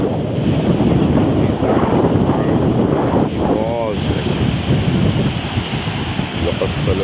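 Loud, steady roar of ocean surf with heavy wind buffeting the microphone, waves washing continuously close by.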